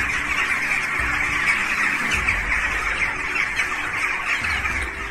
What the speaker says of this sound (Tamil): பறவைகள் மக்களை எச்சரிக்கும் விதமாக கூச்சலிட்டு வானில் வட்டமிட்ட காட்சிகள்